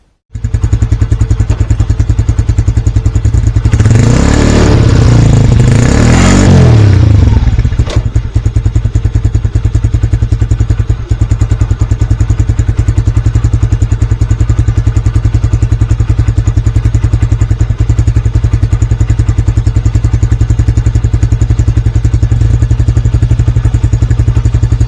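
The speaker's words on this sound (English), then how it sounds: "I'm going to start the bike, put it in gear," A Lifan King motorcycle engine starts and runs in gear with a loud, steady, close-up drone, joined by clunky thumps and clatter early on before settling into a constant hum.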